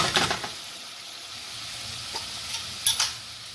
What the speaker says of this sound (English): it's going to take about 5 minutes to saute because the onions have to get a nice golden brown